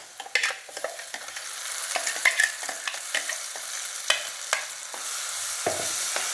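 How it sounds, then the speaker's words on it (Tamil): Ground spice paste fries with softened onions in oil for paneer butter masala, giving a continuous sizzle under irregular, close scraping and clattering spoon strokes. "இப்போ நம்ம இந்த அரைச்ச பேஸ்ட்டை போட்டுருவோம்."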